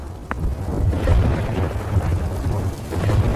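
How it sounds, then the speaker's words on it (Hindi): Heavy night rain pours down with a deep, rumbling roll of thunder, a dense, continuous downpour close by throughout. "देखते ही देखते बारिश तेज होने लगी"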